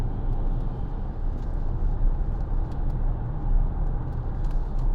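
A 2014 Vauxhall Insignia 2.0 CDTi SRi diesel accelerating toward 70 on the road, heard from inside as a steady low engine drone with road and tyre rumble, no voices.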